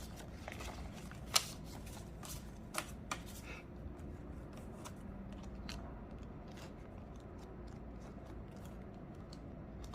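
Quiet rustling and crinkling of paper cash envelopes being handled and stuffed, with scattered soft clicks and flaps over low steady background noise.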